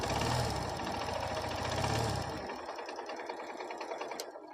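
A Bajaj Platina BS6 motorcycle engine turns over on its electric self-start and settles into a steady idle, a close, even mechanical chatter with a faint ticking that drops in volume partway through. No one speaks.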